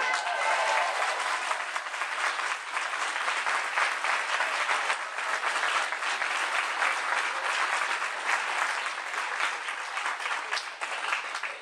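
An audience applauds during a formal address, a sustained, even wash of many hands clapping for over ten seconds, loud and continuous with no speech over it.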